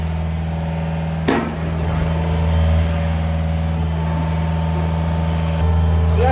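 An old John Deere excavator strains under load trying to lift a lifted mega-cab pickup, its steady engine drone and hydraulic hum running throughout, broken by a sharp metallic clank near the start.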